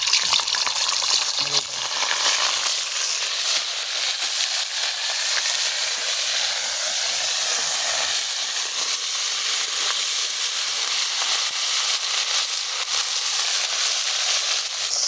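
Ginger garlic paste frying in hot oil with whole garam masala spices, a steady loud sizzle and hiss that runs the whole time, stirred now and then, outdoors at a village cookout.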